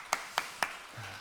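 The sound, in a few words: church congregation clapping in thanks to parents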